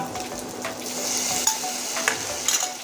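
Ginger-garlic, cumin-coriander and chili pastes sizzle and fry in a pan, with steady close frying hiss and a few sharp stirring scrapes and clinks of a utensil against the pan.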